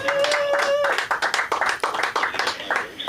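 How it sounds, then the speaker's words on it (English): Comedy club audience applauding a newly introduced comedy concierge, a loud, dense patter of claps with a few voices and a brief whistle at the start, continuing steadily for a few seconds. "Give a round of applause for your comedy concierge, Samantha Lindemann."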